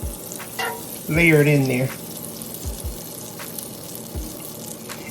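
Small bite-sized fish pieces sizzling in butter in a pan, a steady soft crackle under a voice, with a few scraping stirs and clatters.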